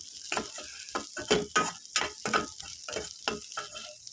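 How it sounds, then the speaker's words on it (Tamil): Onions and manathakkali berries sautéing in a pan for chutney, a soft steady sizzle broken by repeated scraping stirs of a spatula in a quick rhythm, close and fairly quiet with no talking. "நல்லா வதக்கி விட்டுக்கலாம். நல்லா வதக்கணும்."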